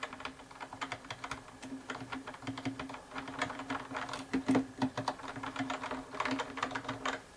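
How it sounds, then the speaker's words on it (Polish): A SteelSeries Apex M800 mechanical keyboard with QS1 switches is typed on steadily, a dense run of quick, fairly soft clacking keystrokes, close up and with no talking. "są tutaj przełączniki mechaniczne, nowy typ przełączników QS1"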